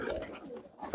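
Pakistani teddy pigeons cooing softly in a loft full of squabs, low murmuring coos with a louder, closer coo rising at the very end, no voices present.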